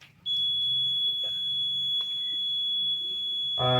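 A homemade electronic earthquake detector goes off when vibration closes its circuit, so its buzzer sounds along with a lamp. A loud, shrill, steady tone starts abruptly and holds unbroken, with small clicks and handling noises beneath it.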